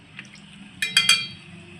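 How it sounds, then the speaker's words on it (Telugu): Water poured from a glass into a pot of mutton curry on the stove, heard as three quick splashing bursts in close succession, near and fairly loud over a faint background hum, with no talking. "బాగా మటన్ ఉడికే వరకు 1 గిలాస్ వాటర్ పోస్తా."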